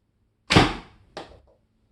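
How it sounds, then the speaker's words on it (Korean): An arrow loosed from a Korean traditional bow (gukgung) gives a sharp, loud snap that decays quickly, followed by a second, softer crack a moment later, with nothing else around it. "화살 시위 떨어지는 소리도 좋고요"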